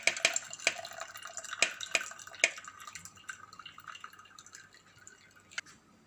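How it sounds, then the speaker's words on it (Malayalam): A mango and milk mixture drips through a sieve. Distinct drops fall at irregular intervals, quiet and close, and gradually thin out toward the end with no talking. "ഞാനിവിടെ അരിപ്പിനകത്ത് വെച്ചാണ് അരിച്ചെടുക്കുന്നത്."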